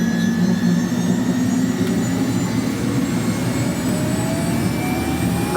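A 1979 Bell JetRanger helicopter's turbine engine spools up during startup, a steady loud whine and roar with rising tones that climb continuously throughout, close by and with no voices.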